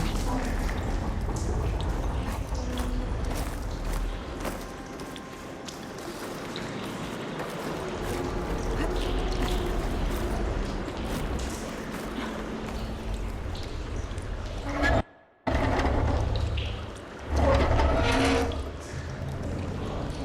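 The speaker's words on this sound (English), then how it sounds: "Aloy, I can hear water in the room again." Water flows in a room after a valve is opened in the video game Horizon Forbidden West: a faint, continuous trickling stream under low game ambience, with a brief dropout near the end.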